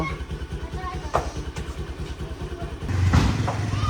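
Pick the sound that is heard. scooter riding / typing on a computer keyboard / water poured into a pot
scooter riding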